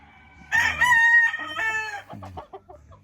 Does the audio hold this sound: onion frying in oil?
no